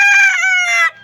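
A single rooster crows loudly and close, one drawn-out call about a second long that trails off abruptly, with faint clucking from farm chickens at the very end.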